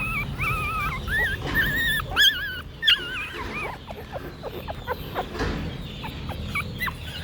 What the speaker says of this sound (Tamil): இந்த குட்டியே தான் சவுண்டு விட்டுக்கிட்டு இருக்கு.